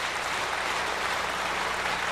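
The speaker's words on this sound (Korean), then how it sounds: "전체 여러분 박수로 축하해 주시기 바랍니다." Applause from a church gathering, a dense even wash of many hands clapping at an indoor celebration, steady and continuous without breaks or voices.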